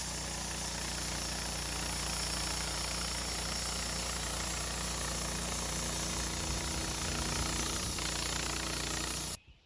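A Woodmizer LT15 sawmill quarter saws a small California black oak log, its engine and band blade making a loud, steady droning roar that runs continuously, then cuts off abruptly at the end.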